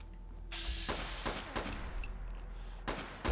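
Handmade rifle shots in Fallout 4 crack out as a few loud, separate bursts spread across a few seconds, with a sustained mechanical whine between them.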